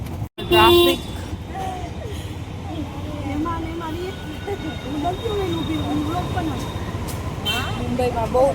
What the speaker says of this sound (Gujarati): મુંબઈમાં બહુ ટ્રાફિક હોય છે